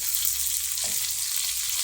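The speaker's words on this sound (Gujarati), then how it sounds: "હવે આપણે બટેટાને સંતળાવવા દઈશું।" Constant hissing sizzle of potatoes sautéing in a hot pan, steady and close, with a brief soft scrape partway through.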